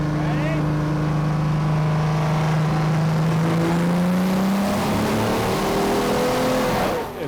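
Diesel truck engine at full throttle on a dyno at the 2018 UCC competition, running a 1,000 cc fuel-only tune, roaring continuously with a rising pitch as it climbs to about 1,850 horsepower, loud and close, with a voice faintly under it.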